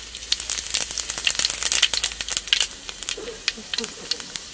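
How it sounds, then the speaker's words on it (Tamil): Fennel seeds crackle and sizzle in hot oil in a pan, a dense, busy spatter of sharp pops running steadily throughout at close range, with no talk. "எண்ணெய் சூடாயிடுச்சு சோம்பு சேர்த்துக்கலாம்"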